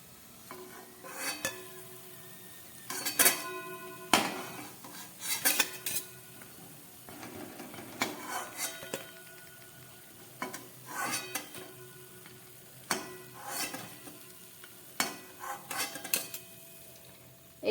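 Fried semolina sweets are lifted out of a pan of hot oil, with repeated metal utensil clinks and scrapes over a soft sizzle, close and unaccompanied by speech.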